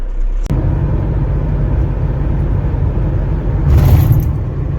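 A pickup vehicle drives through Pune city traffic, its engine a steady, loud, close rumble throughout that swells briefly toward the end.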